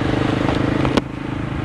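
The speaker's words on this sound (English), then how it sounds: "So there you have it, the sound of an IXIL exhaust." Single-cylinder motorcycle fitted with an IXIL Hexoval slip-on exhaust idles close by, a loud, rapid, even thumping pulse with a sharp crackling pop about midway.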